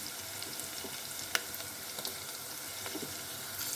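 Ginger garlic paste frying in hot oil tempering, a soft, fairly quiet crackling sizzle with a few small pops and clicks of stirring, close by.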